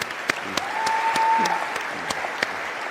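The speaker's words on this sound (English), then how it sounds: "That deserves a round of applause." At a stand-up comedy show the audience gives a brief round of applause, with a few sharp louder claps standing out over a moderate wash of clapping.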